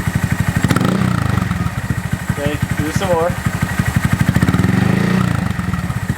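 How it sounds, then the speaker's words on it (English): A Honda Monkey motorcycle engine fitted with a Yoshimura spark arrestor insert idles with a steady low putter, rising in a few short revs while people talk nearby. "we're going to go ahead and give you a couple of revs"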